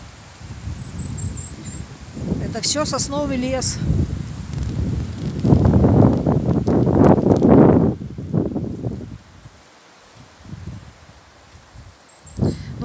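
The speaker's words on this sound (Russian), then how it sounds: "Вот такой ветер у нас сегодня очень сильный." Strong wind rushes and rustles through a pine forest in loud gusts, peaking midway and then easing, while someone talks over it near the start.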